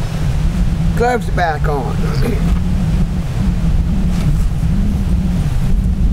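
Steady wind rushing and buffeting a microphone outdoors by the Lake of the Ozarks, a loud continuous low roar with a brief voice speaking over it.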